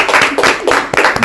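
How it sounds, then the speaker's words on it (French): An audience claps in a church setting, a loud, close burst of hand claps with several distinct rhythmic pulses over a little more than a second, no talking over it. "Applaudissons pour lui"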